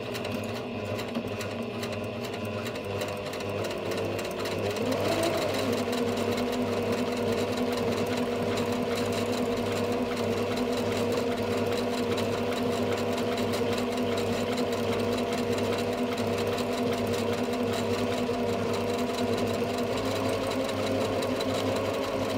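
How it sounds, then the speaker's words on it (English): Singer Heritage 8768 sewing machine stitching a buttonhole, a steady fast mechanical whirr with rhythmic needle clatter running continuously at close range, rising slightly in pitch after the first few seconds. "And then you just literally start sewing."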